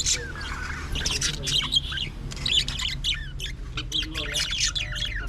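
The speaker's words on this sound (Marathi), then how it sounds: "मस्त आवाज बघा पक्ष्यांचा" Birds near the Konkan coast around Dapoli and Harihareshwar, including white birds, chirp and squawk in quick, busy bursts close by, with faint background noise throughout.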